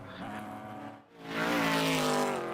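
A GTO-class Jannetta race car at Road Atlanta during an endurance race, its loud, throaty engine note fading briefly and then surging back hard and close as it accelerates past.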